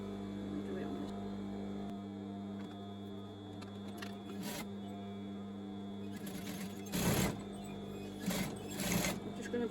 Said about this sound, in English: I'm just going to back tack along that elastic just to give it a little bit of extra security on the seam.